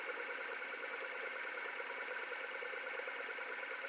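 A small Newman motor runs with a steady, even hum and faint whir, quiet and unchanging throughout, with no talking.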